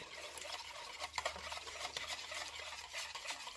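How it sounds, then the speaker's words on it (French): A spoon stirs a milk mixture for homemade yogurt, giving soft repeated swishes and light scraping with faint watery sloshing, close up and quiet. "je mélange avec le lait restant"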